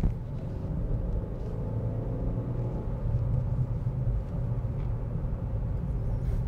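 A Chevrolet Cobalt engine climbs a small hill in third gear at about 60 km/h, giving a low, steady rumble heard from inside the car with slight swells in level.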